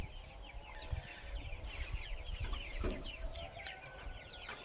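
Backyard chickens clucking in a busy flock, with repeated chirpy calls and occasional louder squawks over steady farmyard background noise, moderately close.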